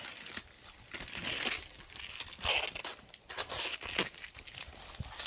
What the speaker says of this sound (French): Puis je vais déballer le reste.